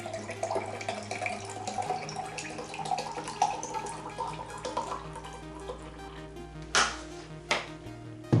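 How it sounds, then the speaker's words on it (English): Fruit-infused water is poured into a container, giving a close trickling, splashing flow that rises and falls, followed by a couple of sharp knocks near the end. "Now I'm just going to pour that in."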